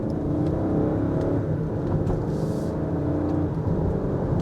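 A 2025 Range Rover Autobiography LWB engine hums steadily at a moderate, even level, a continuous motor whir as the vehicle gathers speed, with no talking.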